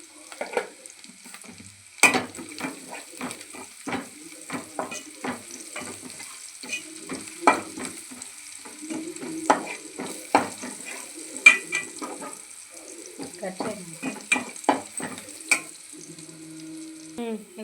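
Telugu-style tempering for a Malabar spinach curry crackles in a pan, with sharp spattering pops and spatula stirs over a low sizzle, close and fairly loud, and no voices.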